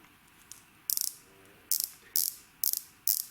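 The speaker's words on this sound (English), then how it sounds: "As you listen the perfect sound on the bezel and the little play" Crisp ratcheting clicks from the rotating bezel of a 2019 Rolex Submariner Date 116610LV, heard in five short bursts of rapid clicks, close and clear against a quiet background.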